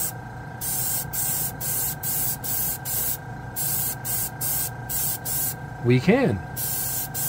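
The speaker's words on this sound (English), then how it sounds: "You can feel how powerful this sprays." A side-feed airbrush sprays paint in short repeated bursts, a close, steady hiss that starts and stops rhythmically against a faint hum, with a brief spoken remark near the end.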